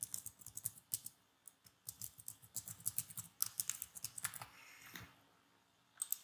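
Someone types a new password on a computer keyboard while resetting a Jenkins admin password, producing quick irregular bursts of close, crisp key taps with short pauses between them.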